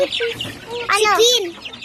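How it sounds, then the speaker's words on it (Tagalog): A chicken clucks and makes a few rising squawky calls close up, over a quiet background. "Ito, cute chicken."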